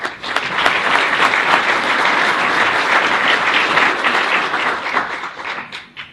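A city hall audience in Brawley breaks into loud, sustained applause that fills the room, with many hands clapping densely before it tapers off in the final second.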